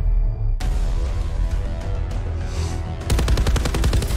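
Hades light machine gun firing in Call of Duty Black Ops 4, a sustained loud burst of rapid automatic fire, then a brief lull and a sharper, tightly spaced stream of shots at the end.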